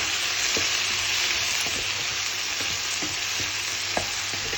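Chilli in a pot gets stirred while it simmers and sizzles, a steady bed of hissing bubbling with scattered spoon scrapes and taps against the pot, close and even, with nobody talking.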